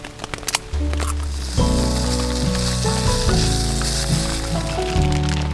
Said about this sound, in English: I'm going to chuck in the noodles, pop in a bit of rice vinegar and soy sauce, stick some peppers in there.